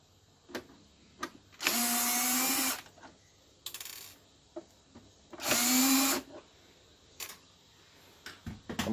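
Screws being removed from an Epson L3110 printer with a small electric screwdriver: two bursts of whirring motor about a second long each, separated by scattered light clicks and taps of plastic parts, close and distinct.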